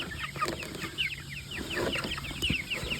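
Several chickens cluck and chirp softly close by, a busy scatter of short calls with light scratching and rustling underneath.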